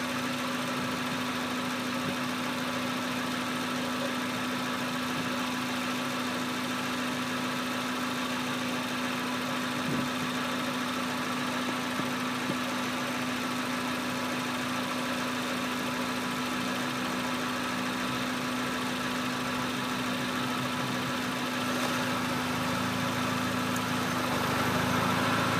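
A 2006 Hyundai Elantra with its 2.0 engine idles steadily, a close, even hum with a fixed tone and a faint ticking texture, holding unchanged throughout with no voices.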